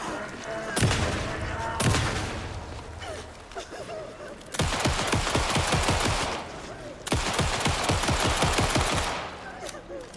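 Bursts of rapid automatic gunfire crackle in dense volleys, a few single shots first and then two long sustained strafes, loud and close.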